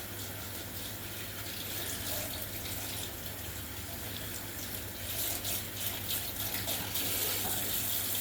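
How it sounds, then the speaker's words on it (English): Hands being washed under a running tap, a steady broadband rush of water with slight splashing changes as the hands move through the stream, continuous and fairly close. "I'm just washing all of that water off"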